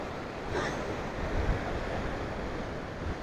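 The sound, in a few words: sea waves breaking below Fort Aguada, Goa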